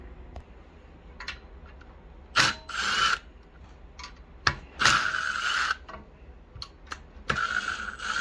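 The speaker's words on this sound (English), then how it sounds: "we will come here and take these 4 bolts out here that holds the valve cover on" Short bursts of a power tool or ratchet backing out the valve cover bolts on a non-hemi Predator 212 small engine, several separate whirring spurts with quiet gaps between them, close by.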